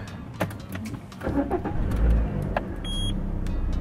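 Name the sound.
new car engine starting for the first time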